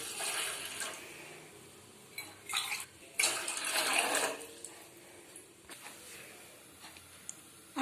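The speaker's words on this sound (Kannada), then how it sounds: "ಅದಕ್ಕೆ ಈ ತರ 2 ಗ್ಲಾಸ್ ನೀರು ಹಾಕ್ತಾ ಇದ್ದೀನಿ." Two glasses of water are poured into a pot on a stove for kashayam, making faint splashing bursts in two or three separate pours amid light background hiss, with no talk.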